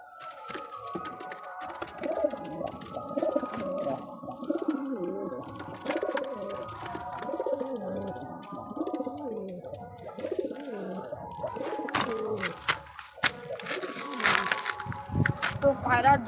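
Kept pigeons coo repeatedly at close range, a steady stream of low, throaty burbling calls layered over one another, with talking mixed in throughout.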